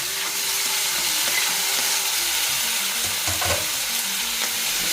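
Tomato stirred into frying chana dal, urad dal, asafoetida, green chilli and pumpkin in a pan for capsicum rava upma, a steady close sizzle with scraping spatula strokes throughout, no talking.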